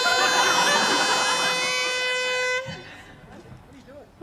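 A loud, sustained air horn blast holds steady for a couple of seconds, then cuts off, leaving quieter background chatter and noise.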